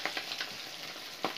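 Tortang alamang, an omelette of tiny shrimp with carrots, frying in bubbling oil gives off a steady, close sizzling hiss, with a few brief stirring bursts near the start and end.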